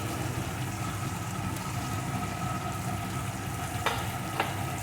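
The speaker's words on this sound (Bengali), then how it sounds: "পটলগুলোও মশলার সাথে একটু কষিয়ে নেবো" Fried pointed gourd being stir-fried in spice paste with panch phoron, a dense continuous sizzle with soft stirring scrapes and a couple of sharp clacks toward the end.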